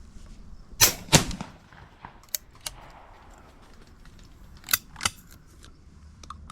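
Shotgun shots fired at pigeons over decoys in an open field, two loud sharp reports close together, then a couple of lighter cracks and two more distant-sounding shots later, with quiet outdoor ambience between.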